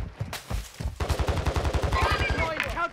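Automatic gunfire rattles in a video game shooter, a rapid run of close, loud shots in a steady rhythm after a few scattered single cracks, with speech underneath.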